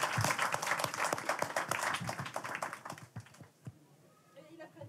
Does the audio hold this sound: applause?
yes